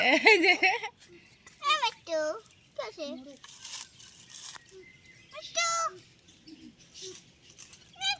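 A pet cockatoo named Mittu gives short, high, warbling calls in brief bursts between a child's and adults' voices in a quiet room.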